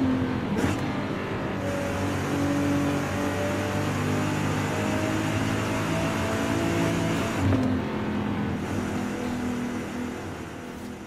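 A Nissan GT-R in a racing video game played on a Logitech G920 wheel, its engine holding a steady, loud drone with gear-shift dips, heard alone without talk.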